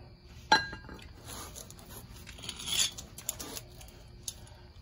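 Metal pins pulled from the front brake caliper of a 1993 Honda Helix scooter, a sharp metallic clink followed by scattered lighter taps and scrapes, close and fairly quiet with no talking.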